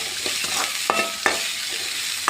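Sliced big onions sauté in a pan with a soft, continuous sizzle, punctuated by several sharp metallic spatula taps and scrapes against the vessel.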